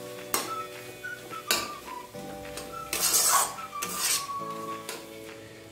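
Food stirred in a cooking pot, a spoon scraping in a few distinct bursts against a steady low tonal background, with no talking.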